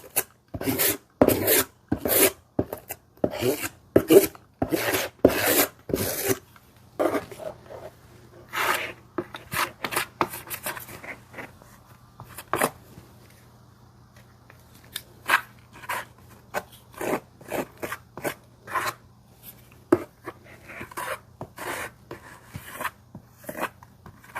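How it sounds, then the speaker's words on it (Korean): Putty being spread thinly with a tool across the back of a cardboard moon lamp, giving repeated close scraping and rasping strokes, busy at first and then sparser, with no talking. "뒷면부터 한번 퍼티를 발라볼게요. 뒷면부터 얇게 발라주세요."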